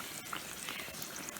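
Soft fry bake dough sizzling in hot oil, a steady close crackle and bubbling hiss that runs continuously without pause, fairly quiet.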